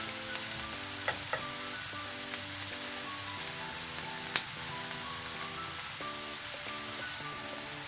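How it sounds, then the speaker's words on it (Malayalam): Onions sizzling in a pan with salt and curry leaves while being stirred, a steady frying hiss with occasional scraping clinks and faint music underneath. "നമുക്കിതൊന്ന് ഇളക്കി കൊടുക്കാം."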